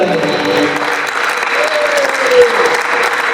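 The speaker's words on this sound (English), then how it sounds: "Big round of applause for Jeff." Steady applause from an audience, dense clapping throughout with a faint voice or tone sliding underneath.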